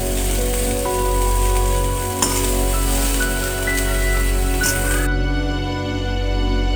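Green chillies frying in hot oil, a soft continuous sizzle under a steady background hum, with a few clinks and a sharp tap partway through.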